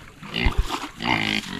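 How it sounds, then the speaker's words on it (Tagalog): Wild boars grunting close by, a few deep, rough snorts and grunts in quick succession over a short stretch, with no talk over them. "Ay mga baboy damo."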